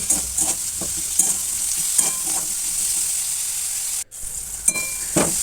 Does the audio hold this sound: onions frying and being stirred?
yes